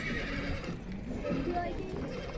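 Horses at a livestock market in Tokmok, with a whinny rising over a continuous bustle of hooves and crowd noise, people talking and bargaining nearby throughout.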